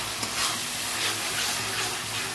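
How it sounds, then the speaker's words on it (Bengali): Spice paste with tomato sautéing in hot oil, a continuous dense sizzle and bubbling hiss with soft stirring, steady and close throughout. "ভালো করে মশলাটা কষে নেবো।"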